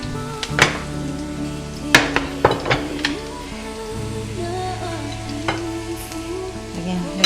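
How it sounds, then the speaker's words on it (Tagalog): Onion and eggplant sautéing for tortang talong, a steady sizzle in the pan broken by sharp clinks and scrapes of a utensil against the pan, close and fairly loud. "Igisa natin yung sibuyas."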